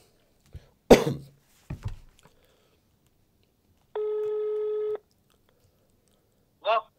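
A telephone call is placed to reach a prize winner: after a few clicks and a cough-like burst, a single steady ringback tone sounds for about a second. A short, faint sound follows near the end.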